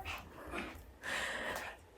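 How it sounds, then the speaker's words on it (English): Dogs making short indoor vocalizations in a house, a couple of close yips and huffs with snorty breathing, fairly quiet and brief. "I apologize for the barking dogs."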